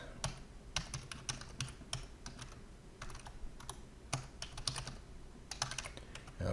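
Soft, rapid keystrokes patter on a computer keyboard in irregular bursts, quiet and close with a few louder taps, during setup of a Windows Server 2019 VPN.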